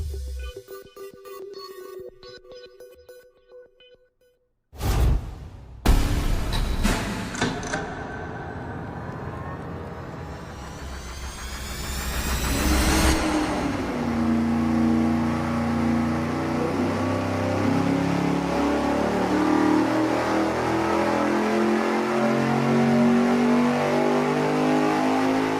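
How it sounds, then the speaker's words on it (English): Supercharged engine fitted with a ProCharger centrifugal blower, run on a dyno: a few sharp bangs, then a loud, sustained, rising roar with climbing whine as it pulls, holding steady at full load to the end. "We have our ProCharger centrifugal blower installed. Now we're gonna run it for the numbers and see what it does."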